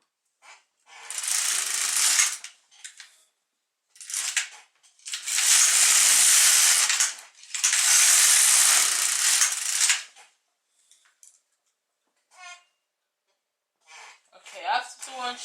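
An LK150 knitting machine carriage sweeps across rows in several loud, swishing passes with short pauses between them, followed by lighter clicks.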